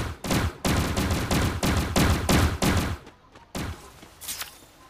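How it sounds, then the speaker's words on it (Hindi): Rapid gunfire from the mobile shooter Garena Free Fire Max in its Zombie Hunt mode: a loud, tight string of rhythmic shots for about three seconds, then a pause and a few scattered single shots. "अरे गोली किधर से पता?"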